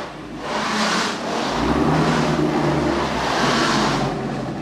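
A Chevrolet Camaro ZL1 1LE with an AWE Tuning exhaust revs repeatedly, rising and falling in a deep, throaty roar up close.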